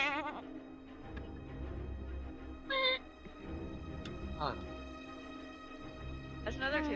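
A goat bleats twice in short wavering cries, close by, over a steady low hum and background talk.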